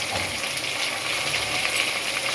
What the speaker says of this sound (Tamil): இப்போ நம்ம தக்காளியை சேர்த்துக்குவோம் தக்காளியும் கொஞ்சம் நேரம் நல்லா நம்மளுக்கு வந்து கொஞ்சம் குழஞ்சி வரட்டும்